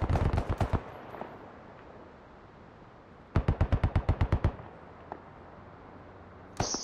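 Automatic machine gun fire returned in the video game Squad comes in rapid bursts of sharp shots, a longer burst at the start and another midway, with a single isolated shot and a brief final burst near the end.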